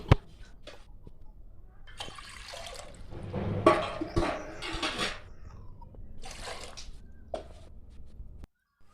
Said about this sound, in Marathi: आता गॅस चालू करून आपण त्याच्यावरती पातेलं ठेवूया आणि पाणी टाकून ती गरम करायला ठेवूया